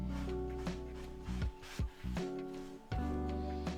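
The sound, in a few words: wiping excess wood stain off a picture frame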